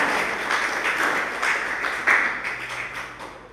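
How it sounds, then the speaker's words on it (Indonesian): University students clapping at a public lecture on social media ethics, a moderate, fairly steady round of applause heard at some distance with a brief louder swell partway through. "Tepuk tangan nih."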